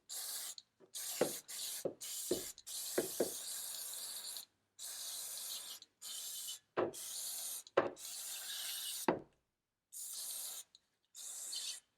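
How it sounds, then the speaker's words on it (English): A can of QD electronic cleaner sprays onto a car battery in a series of short, close hissing bursts of varying length, separated by brief pauses. "I'm just going to be using some QD electronic cleaner instead, and I'll just spray this on here"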